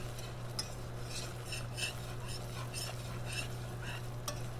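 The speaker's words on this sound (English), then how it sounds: "keep stirring" A mixture is stirred in a frying pan on the stove, a steady sizzle running underneath as the spoon scrapes and swishes in soft, repeated strokes, close up and with no one talking.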